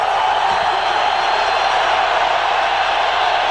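A stadium crowd at a 1996 Eagles at Packers NFL football game makes a constant, dense roar. The loud, unbroken wash of noise holds steady without individual voices standing out.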